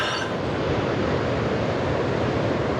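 Ocean waves wash ashore at Ghosties Beach on the NSW Central Coast as a steady, dense roar of surf that stays close and loud throughout, with no voices.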